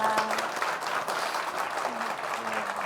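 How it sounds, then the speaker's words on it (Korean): An audience at a Korean Christian broadcast taping inside a prison applauds ahead of a song, a fairly quiet, even wash of clapping with faint tones underneath. "박수 부탁드리겠습니다."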